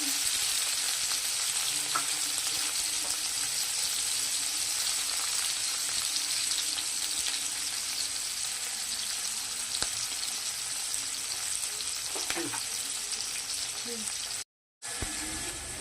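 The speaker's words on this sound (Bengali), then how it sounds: "পেঁয়াজটা একটু ভাজা হবে" Chopped onion fries in oil in a pan with whole cumin and whole garam masala for a fish-head dal muri ghonto, giving a steady, close sizzle with occasional stirring clinks and a brief dropout near the end.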